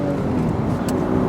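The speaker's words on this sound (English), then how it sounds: "I get a flat six car, which makes a really good noise" A Porsche flat-six engine hums steadily at close range, a smooth and continuous drone lasting just over a second with no talk over it.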